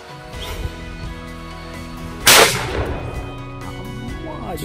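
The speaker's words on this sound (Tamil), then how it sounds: "சூப்பராக பேப்பர் வெடிக்குது, சில்லி சில்லியாக" Paper sound crackers from a fireworks test burst outdoors with one sharp, loud bang, followed by fainter pops and crackling against a steady background hum.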